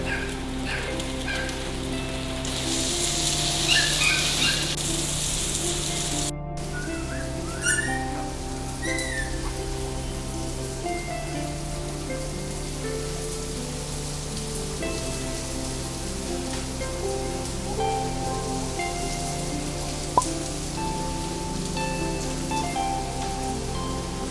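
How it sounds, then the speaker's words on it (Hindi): Steady rain pours down throughout, a dense constant hiss with a low background hum, no voices. "इतनी तेज़ बारिश हो रही है।"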